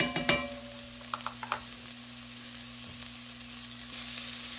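Chopped yellow onion sizzles in a pan for chili, a steady crackling fry with a few stirring scrapes early on, close and fairly soft, with no talking.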